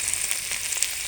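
Chopped ginger and garlic sizzle in hot oil in a wok, a short burst of bright, steady frying hiss with a few faint crackles and no talking.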